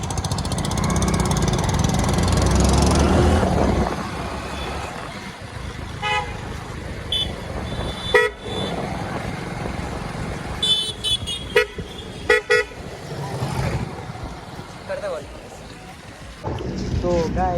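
Busy road traffic on a bad, congested stretch, with engines rumbling and several short car horn toots scattered through, some close and sharp, while voices talk intermittently.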